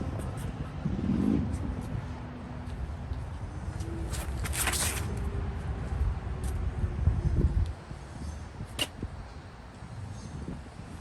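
A car rolls past on a nearby road, its engine and tire noise swelling and fading over several seconds against wind buffeting the microphone outdoors.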